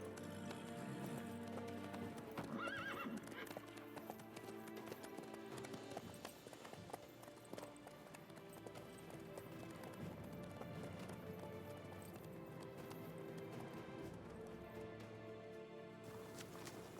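Horse hooves clip-clop in a steady running rhythm in The Witcher 3 video game, continuous and moderately close under a dense bed of game music and ambience.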